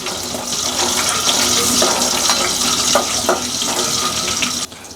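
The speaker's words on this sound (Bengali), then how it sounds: "এখন এই ফোড়নগুলোকে ভালোভাবে ভেজে নিতে হবে।" Whole spices (black cardamom, cinnamon, cloves) fry in oil in a pan, producing a loud, continuous hiss with faint crackles that cuts off abruptly at the end.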